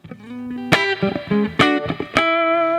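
Twangy electric guitar notes and strummed chords from a Strandberg Boden Standard 6, with a spacious reverb tail and a little amp EQ, played alone in short phrases.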